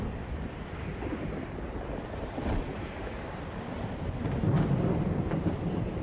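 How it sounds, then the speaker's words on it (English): Thunder rumbles through a storm scene in the video game Another World, a broad low roll that swells louder toward the end with no voices. "Bring in that thunder."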